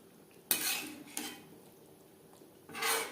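Fried katla fish pieces and a fish head are stirred into gravy in a pan, giving three close, scraping strokes of a metal utensil against the pan with quiet pauses between them and no talking.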